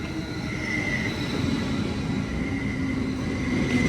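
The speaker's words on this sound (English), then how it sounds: "Here comes Caltrain 409." A Caltrain commuter train rolls through South San Francisco station with a loud, steady rumble of wheels on rails and faint high wheel squeal tones running throughout.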